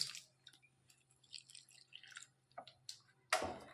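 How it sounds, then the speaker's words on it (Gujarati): Water is poured into a lumpy spice mix for kadhi in short, uneven splashes and drips, ending in a louder splash near the end, close by with no talking. "પાણી નાખી એનું આપણે લિક્વિડ ફોર્મ કરી દઈશું"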